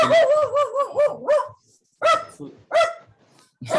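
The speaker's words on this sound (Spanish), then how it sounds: "Lo que se oye bien son los ladridos del perro" A dog barks loudly and close by, starting with a fast run of sharp barks that slide into a whine, then a few separate single barks after short pauses.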